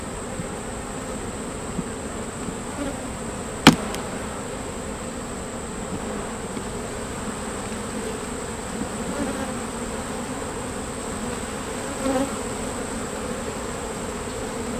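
Honeybees buzz steadily around an open hive with brand-new capped brood frames, a close, continuous droning hum that holds level for the whole stretch, broken only by a single sharp click partway through.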